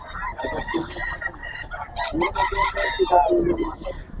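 Roosters and chickens cluck and crow at a poultry market, a bull stag among them, with busy chatter and crowd noise mixed in close by.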